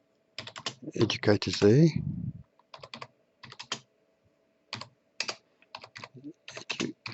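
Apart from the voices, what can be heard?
typing on a computer keyboard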